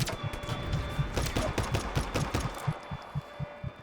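Rapid automatic gunfire from Just Cause 3, bursts of sharp shots in a steady rhythm that thin into sparser, single thumps as the magazine runs dry, loud and close with no talk.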